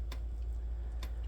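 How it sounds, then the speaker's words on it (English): A dripping kitchen sink tap, with two clear drops falling about a second apart against a steady low hum in a quiet room. "That is the sound of my annoying kitchen sink dripping."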